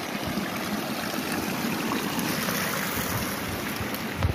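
Water pours from twenty-two stone spouts at a temple in a steady, unbroken rush, a dense splashing wash that stays level throughout with no voices.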